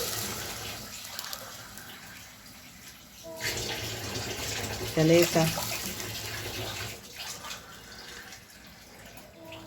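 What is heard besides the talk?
water being poured for cooking rice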